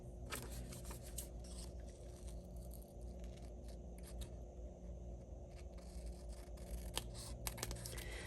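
Scissors trimming paper ephemera for a handmade vintage journal: quiet, close snips and light scraping cuts repeated through the stretch, with no talk.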